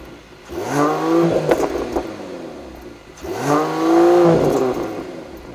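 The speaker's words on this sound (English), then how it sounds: "Alright, so now we're on the road in the 2021 AMG GT 43 4-door coupe." A 2021 Mercedes-AMG GT 43 4-door coupe on the road gives two rising engine revs as it accelerates, each swelling smoothly then easing off, close and clear with no talk.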